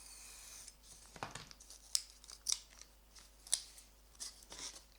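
A blade slices foam sheet guided along a ruler in an egret model build, giving a few short crisp cutting strokes and scrapes, close and fairly quiet, with no talk.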